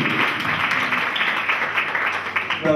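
A street festival crowd claps in steady applause, a dense, even patter of many hands close by, lasting briefly with faint voices mixed in.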